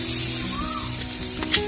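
Greens frying in a pan with eggs and potatoes give off a steady, soft sizzle, close and continuous, with no talking.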